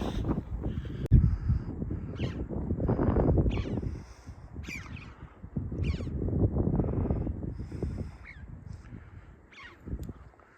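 Scattered crow-like caws from hundreds of orange-billed birds ring out overhead on a mountain trek near Kugti Pass, against a steady rumble of wind buffeting the microphone.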